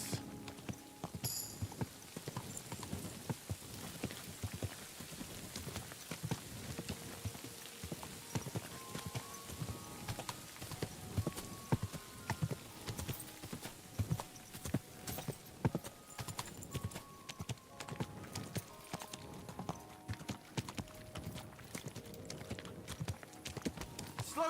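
Steady clip-clop of horse hooves at a brisk trot in the video game Kingdom Come: Deliverance II, continuous and close, with a soft patter like rain behind it.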